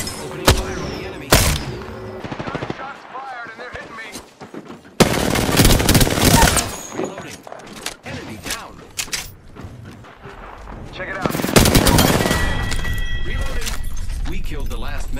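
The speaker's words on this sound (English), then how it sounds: "Opening fire on the enemy." Gunfire from an Apex Legends match, with dense bursts of automatic fire and sharp shots clustered in loud stretches, mixed with game effects and a voice talking over the action.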